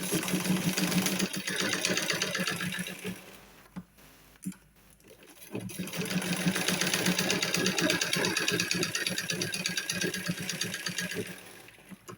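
A sewing machine stitches a folded strip of beret fabric, a fast, steady mechanical whirr up close that stops briefly midway, with a couple of clicks, before the stitching resumes.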